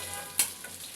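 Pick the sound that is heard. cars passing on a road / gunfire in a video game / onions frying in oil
onions frying in oil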